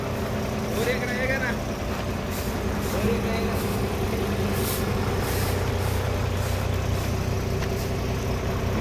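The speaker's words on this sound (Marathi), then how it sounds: "आता ह्या गाड्या जातात निघून हालून" Heavy milk-collection vehicle engines rumble steadily nearby as they drive away, with a brief air-brake hiss and traffic noise, while people talk faintly in the background.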